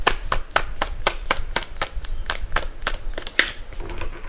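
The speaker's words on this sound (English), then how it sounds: "I will shuffle" Tarot cards being shuffled by hand, a rapid series of crisp riffling bursts and slaps repeating at a quick, fairly even rhythm, close and clear with no talking.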